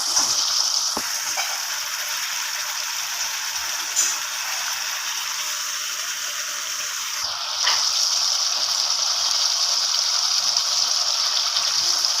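Water poured into a Bengali fish curry produces a steady, rushing hiss that runs nearly throughout, with a brief clatter partway through and a slight shift in tone afterward, close by and without speech.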